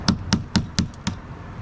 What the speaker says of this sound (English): you got to knock the center of these monobolts, or hucks, whatever you want to call them